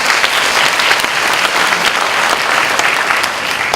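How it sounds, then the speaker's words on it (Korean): Loud congregational applause during a Sunday worship service at Sun Moon University, many hands clapping in a thick, continuous wash that stays strong for several seconds without voices. "우리 박수 한번 부탁드리겠습니다."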